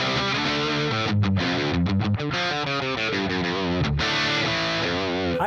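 Fuzz-distorted electric guitar through a Neural DSP Archetype Plini amp simulator, a loud, dense, saturated riff played continuously with chord changes and brief choked gaps, no talk.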